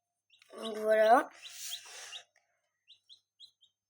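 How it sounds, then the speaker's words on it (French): Newly hatched chicks with a brooding hen peep softly in quiet surroundings. A brief louder, voice-like call comes early, followed by a few short, high, spaced chirps. "il y a des poussins"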